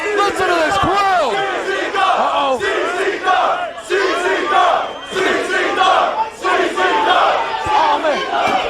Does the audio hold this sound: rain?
no